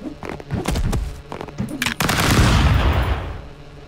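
Pump-gun blasts from the video game Stick Fight fire in a rapid, uneven burst of sharp cracks, close and loud, ending in a longer booming wash of noise.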